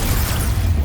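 A Confringo fire spell bursting in Hogwarts Legacy combat, a brief dense explosive boom with a deep rumbling low end, loud and close throughout the short moment.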